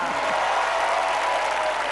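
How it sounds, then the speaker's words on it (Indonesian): Dense studio audience applause on a TV game show, a continuous, loud wash of many hands clapping at a steady level throughout, with crowd noise blended in. "Tepuk tangan untuk Mas Lukman."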